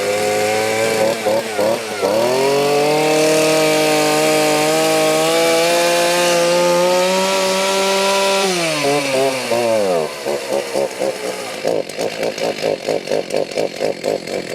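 A retro Husqvarna 40 chainsaw starts and runs close and loud, revving up to a sustained high whine, dropping back, then sputtering into a rough, pulsing idle near the end.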